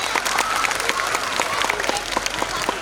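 Dense, steady applause from an audience at an abacus academy's national-level competition award function, many hands clapping together without a break, loud and close throughout.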